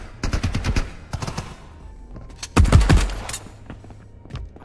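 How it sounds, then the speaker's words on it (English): Gunfire in the video game Space Tarkov: clusters of rapid automatic shots come in bursts, moderately loud with quieter gaps between volleys and no talk. "Here's some shooting already."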